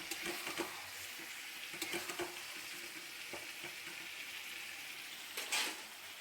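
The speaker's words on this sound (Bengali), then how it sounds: "আগে চিকেনটাকে একটু নাড়িয়ে নিই" Chicken curry is stirred in a pan over low gas, giving a quiet frying sizzle punctuated by several soft scraping and knocking strokes of the utensil, with a louder clatter near the end.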